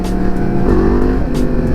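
2017 Yamaha FZ-10 motorcycle engine revving hard through a power wheelie, a loud, close, continuous growl with a brief rising pitch under heavy wind rush.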